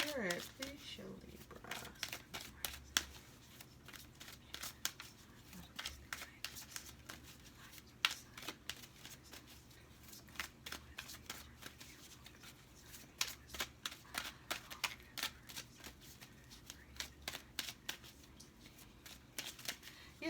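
Tarot cards shuffled by hand, a quiet, close run of rapid riffling flutters and soft slaps repeating steadily, with faint paper crinkling.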